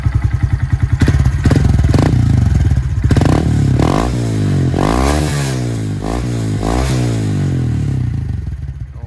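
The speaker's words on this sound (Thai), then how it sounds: "ท่อสูตร ชุดนี้ ดังขนาดไหนไปดูกัน" A Honda Monkey 125 motorcycle with a loud, throaty aftermarket exhaust idles, then revs up several times in sharp, rising bursts, very close and dominating.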